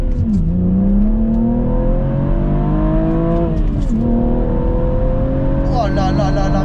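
A modified BMW M135i engine revs hard under acceleration, pitch climbing steadily, dipping at a gear change, then rising again; loud and close, with no speech over it.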